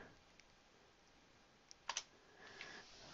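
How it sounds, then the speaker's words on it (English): Quiet typing on a computer keyboard while entering a spreadsheet formula, a few scattered soft key clicks with a brief cluster of sharper taps near the middle. "I may have to just type it in"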